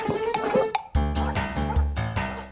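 A dog barks in a sitcom household scene, several loud, close barks beginning near the middle of the clip over a busy background of music and noise.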